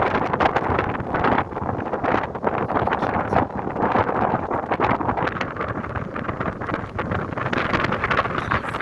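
Strong wind blows outdoors at a boatbuilding site, buffeting the microphone in a loud, continuous rumbling roar with gusty surges throughout.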